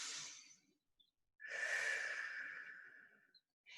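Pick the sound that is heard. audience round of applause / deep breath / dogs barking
deep breath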